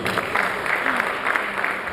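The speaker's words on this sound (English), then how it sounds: "I think we should clap for him again" An audience at a College of Medicine scientific conference plenary session applauds the presenter, a dense, even roar of many hands clapping continuously, with a little talk mixed in.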